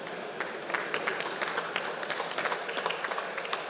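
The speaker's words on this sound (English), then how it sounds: "Big round of applause." An audience claps steadily after a talk at an energy conference on low-cost renewables, a dense even patter of many hands filling the room at moderate volume.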